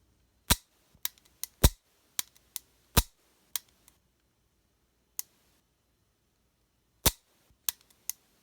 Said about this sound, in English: very, very clean, smooth, double action trigger pull